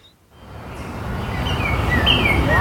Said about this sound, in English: I have a feeling it might be an American robin